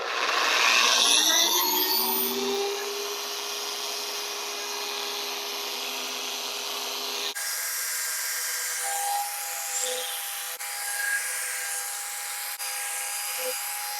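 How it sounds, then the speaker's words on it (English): Electric polisher at speed setting 4 buffing polish onto a car headlight, a steady whirring hum that starts loud and settles lower, with a few brief changes in pitch. "I spread out the polish, speed setting 4 on the polisher, give it about 3 to 4 passes"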